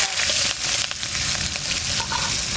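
Green chillies spit and sizzle loudly in hot oil with nigella seeds, dried red chillies and garlic, a dense continuous crackle close up with stirring underneath and no talk.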